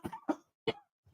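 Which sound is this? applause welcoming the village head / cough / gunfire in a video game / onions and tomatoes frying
cough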